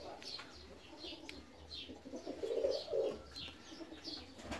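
Fancy pigeons of the Rostov breed and others cooing inside an aviary, soft repeated coos with light chirps over a steady background hum, fairly close.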